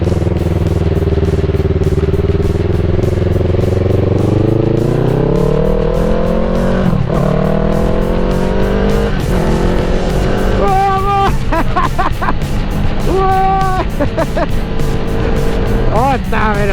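A Yamaha MT-03 engine revs hard on the move. Its pitch rises through the gears with shifts and throttle blips, close and loud over heavy wind roar, and a rider's voice talks over it in places.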